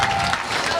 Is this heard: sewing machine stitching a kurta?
no